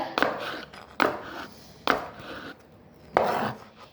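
Fruit being cut for a fruit salad on a board in a home kitchen, four separate knife chops spaced about a second apart, each a sharp close strike with a short scraping tail, no talk over them.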